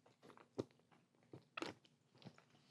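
A crisp crunch as someone bites into a viral-style dot cake cupcake, a few short crackly bites and chewing sounds close to the ear, quiet with no talk over them.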